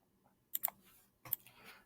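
Two quiet, close clicks of the enter key on a computer keyboard, separated by a short pause in an otherwise silent room.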